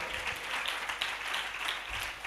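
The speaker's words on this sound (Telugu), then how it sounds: "గట్టిగా చప్పట్లు." A church congregation claps together, a soft, fairly distant wash of steady applause that lasts for a couple of seconds.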